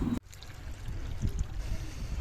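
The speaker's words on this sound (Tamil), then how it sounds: "தண்ணி வந்து பாஞ்சிட்ருக்குது." Irrigation water flows into a farm field, a soft, steady trickling and gurgling that stays close and continuous after a brief louder burst at the start.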